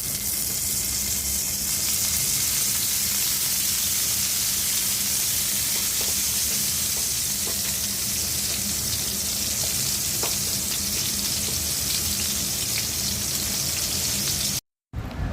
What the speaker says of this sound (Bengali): এখন পটলগুলি দিয়ে দিচ্ছি।